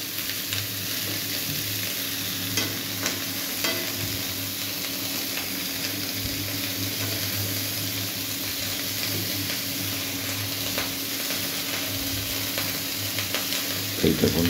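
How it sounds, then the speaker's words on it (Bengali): Cauliflower, potato, carrot and beans frying in a pan for a vegetable curry, a steady close sizzle with occasional stirring scrapes, no talk. "এইটা এখন ভাজার জন্য দিয়েছে"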